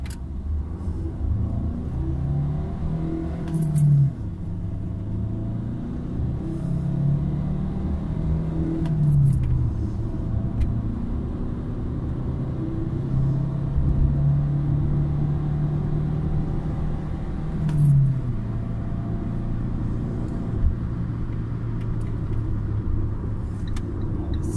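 Fiat Linea 2012 accelerating during an acceleration test, heard from the cabin: a steady low engine drone climbs in pitch through several gear changes, with a drop and fresh climb about every five seconds.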